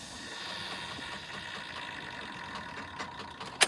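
A 2015 Chevy Tahoe police pursuit vehicle with collision damage, 76,000 miles and 5,400 engine hours, idles steadily with a constant mechanical drone and faint ticking, ending in a sharp click near the end.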